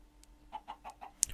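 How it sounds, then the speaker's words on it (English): Chickens in the video game Minecraft give a quick run of short soft clucks, four or five in a row, fairly faint, ending with a brighter sharp sound. "It could be that the chickens"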